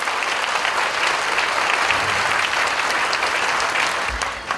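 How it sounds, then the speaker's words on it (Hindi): Steady, dense applause from a large church congregation during a sermon fills the whole stretch, loud and continuous, tapering slightly at the very end. "ताली देंगे जोर से, कमाल प्रभु के लिए कमाल।"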